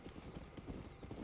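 Horse hooves clip-clopping in the Red Dead Redemption video game, a quick, rhythmic patter of several footfalls at a moderate, fairly quiet level with no other sound on top.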